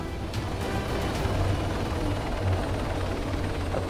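A helicopter in Arma 3 keeps up a continuous loud rotor drone with a low throbbing beat, close and steady throughout, with no voices.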